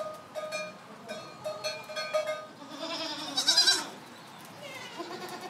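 Goats, young kids offered for sale at a local livestock market, bleat repeatedly among a crowd, with a cowbell-like clank and background chatter running under the calls.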